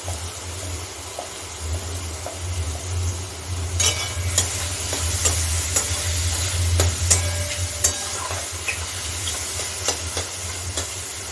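A bay leaf sizzling in hot oil while a spoon stirs and scrapes the pan, with a soft continuous frying hiss, scattered clicks and a low steady hum underneath.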